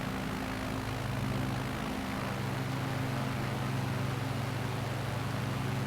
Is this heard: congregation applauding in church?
no